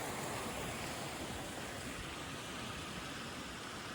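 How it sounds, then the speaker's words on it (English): Steady, soft rushing of water from small waterfalls in Cathedral Canyon, southeast Missouri, a continuous hiss with no other sounds or voices. "There's these nice little waterfalls running through."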